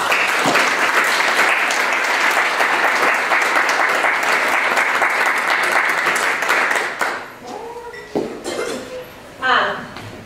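Sustained audience applause at an Elks Lodge educational forum, dense clapping for about seven seconds before fading into scattered claps and a few voices.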